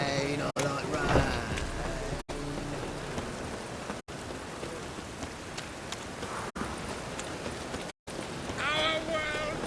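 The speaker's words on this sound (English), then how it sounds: "Rain, I like rain." Steady rain falls in The Witcher 3, a dense hiss that runs throughout with occasional hoofbeat-like clops and brief dropouts, while a voice talks over it.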